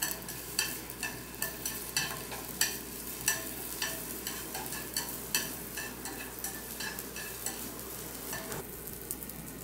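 Cucumber stir-frying in cooking oil in a pan, a steady sizzle with regular scraping stir strokes roughly every half second, close and alone.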